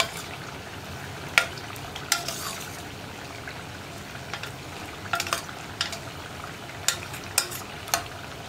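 A spoon stirs a curry of green gram and banana stem in a pot, with sharp intermittent scrapes and clinks against the pan over a soft background simmer, close up and with no talking.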